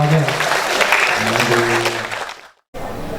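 Audience applause at a 2013 university communication media forum in Indonesia, a dense wash of clapping under a steady voice that cuts off abruptly, followed by a brief pause and resumed sound.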